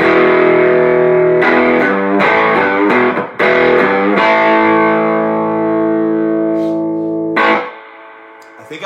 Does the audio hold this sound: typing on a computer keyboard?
no